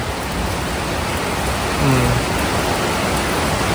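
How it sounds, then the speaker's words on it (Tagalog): Steady, dense hiss of heavy rainfall, loud and continuous throughout, with no voices. "sobrang lakas ng ulan"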